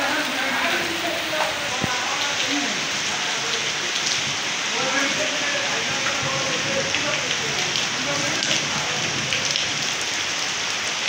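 Steady rain falls on jackfruit trees, an even, continuous patter with scattered drop hits and faint voices or birds in the background throughout.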